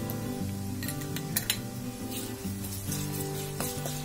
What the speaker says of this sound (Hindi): ये प्याज हमारे थोड़े भून चुके हैं, अब इसमें हम गार्लिक का पेस्ट डालते हैं।